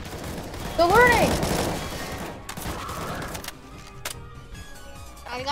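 Rocket launcher fire in a chaotic action game scene: a loud burst of explosive gunfire-like blasts near the start with a whistling rising streak, followed by scattered impacts and mechanical clatter fading into lower background noise, with voices shouting over it.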